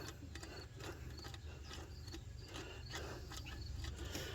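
A Snap-on nut driver turns a fastener under the hood of a 2003 Subaru Forester during timing belt and water pump work, giving a quick run of close ratcheting clicks that repeat steadily with no talking.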